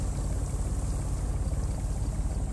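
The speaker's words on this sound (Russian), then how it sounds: "Шум двигателя, вот." A boat engine in the Secret Files 3 adventure game, a low, steady throbbing motor drone with a rhythmic pulse and water wash, close and continuous without talk.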